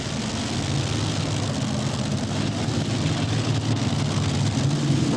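A pulling tractor with six JP1 Racing Hemi engines roars in a loud, continuous, even drone at a pulling event, with no talk over it.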